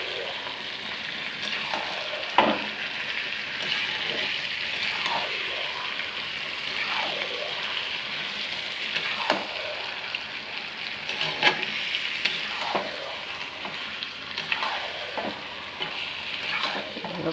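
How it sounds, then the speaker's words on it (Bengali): Marinated duck meat frying in oil with browned onions and garlic, a continuous sizzle broken by repeated scraping strokes of a spatula stirring the pan. "এবার আমি মেখে রাখা মাংসটাকে দিয়ে দিচ্ছি। দিয়ে ভালো করে নাড়াচাড়া দিয়ে নেব।"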